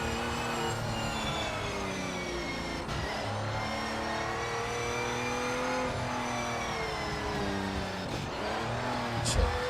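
Race car engine droning steadily at high revs in the racing game Project Motor Racing, with gear changes, a brief dip near three seconds and a rise again near eight seconds, running continuously and loud throughout.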